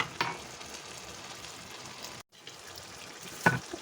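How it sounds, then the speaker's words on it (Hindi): Green beans and mutton (phaliyan gosht) cook on a low flame, giving a soft, even sizzle throughout, with a brief clatter near the start and another near the end. "इसको 10 से 15 मिनट के लिए अभी मैं हल्की आंच पे पकाऊंगी"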